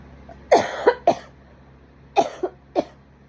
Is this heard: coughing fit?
yes